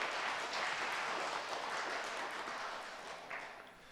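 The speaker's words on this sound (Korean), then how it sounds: "박수로." A church congregation gathered for a Sunday thanksgiving Eucharist service breaks into brief, steady applause, a dense wash of many hands clapping that fades slightly toward the end.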